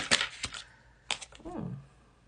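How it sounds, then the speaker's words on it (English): A deck of tarot cards is shuffled by hand in a quiet room, giving a few short, crisp riffling bursts that are close and soft, with a brief slide at the end. "I'm going to shuffle these cards."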